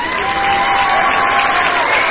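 Wedding guests applaud the groom's entrance at a music-themed wedding in a small town in Hanyin, Shaanxi: steady, dense clapping from a crowd, loud and continuous throughout.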